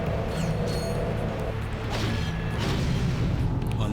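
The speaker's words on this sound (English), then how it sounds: "we also have the suck cannon, and making its triumphant return" The Suck Cannon vacuum weapon in Ratchet and Clank 3 roars with a dense, distorted whooshing suction, loud and continuous with mechanical clanks and creaks layered through it.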